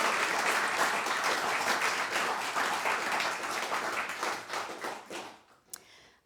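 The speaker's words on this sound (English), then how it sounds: "Rona, Jo and Eline, please give them a round of applause." A concert audience applauds a live music performance at a studio venue with dense, sustained clapping that fades out toward the end.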